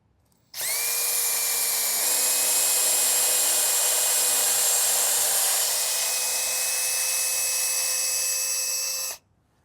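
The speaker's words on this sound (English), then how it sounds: "I'm just gonna go put a screw in here." A drill driving a screw into wood for a garden pergola trellis whines at a steady high pitch for several seconds, with a slight shift in tone early on, before stopping abruptly.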